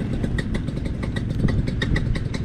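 A paramotor engine runs steadily with a fast, pulsing buzz as the throttle is touched during ground handling, close and fairly loud with no talk over it.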